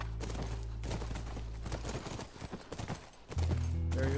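Horse hooves clop steadily at a walking pace, fairly close, over a low droning hum that shifts tone near the end, in the video game The Last of Us.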